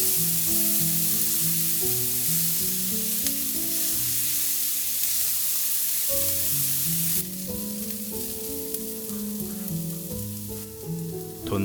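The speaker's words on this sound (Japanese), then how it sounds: "玉ねぎを炒める。" Chopped onions fry in a pan, a steady sizzle lasting throughout with stirring, close and moderately loud, with no talk over it.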